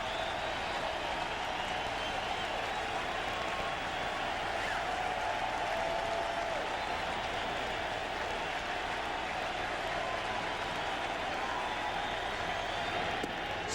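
A baseball stadium crowd roars steadily and loudly for a strikeout in a 2000 NLCS playoff game, Cardinals hosting the Mets, a continuous wash of cheering and applause.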